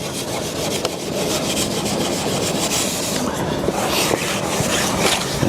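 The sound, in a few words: steel wool scrubbing stripper off furniture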